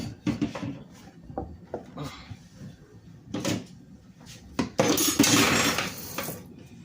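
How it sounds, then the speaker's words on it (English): Kitchen clatter from searching for a Vitamix blender lid during smoothie making: dishes, pots and utensils knock and rattle in short bursts, then a busier, louder stretch of rummaging near the end. "now I'm looking for the lid, the Vitamix"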